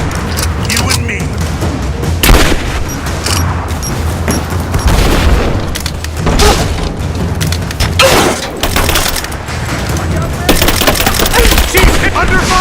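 Dense gunfire in the action game Rise of the Tomb Raider, rapid loud cracks and booming shots overlapping almost continuously through a heavy firefight, with voices shouting amid the noise.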